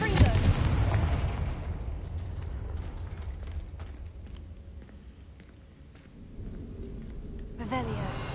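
A Confringo explosive spell blast in the video game Hogwarts Legacy, a loud boom at the start that rumbles and decays over several seconds, followed by a low lingering roar and a second burst near the end.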